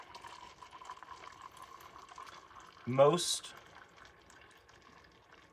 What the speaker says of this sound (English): so I've heated my water to 200. Put it into the paper cup, and then place the lid on it.